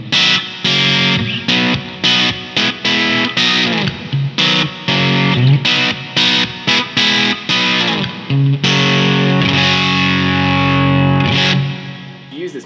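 Electric guitar played through a Wampler Black 65 overdrive pedal at high gain, evoking loud old amps: loud, distorted chords and riffs in choppy bursts, then a long sustained ringing chord fading out at the end, no talking.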